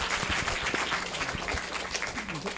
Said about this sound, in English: Maybe another round of applause for Brother Jack.